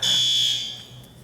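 A smoke alarm sounds loud and close as a piercing steady electronic tone, fading slightly toward the end of the short burst.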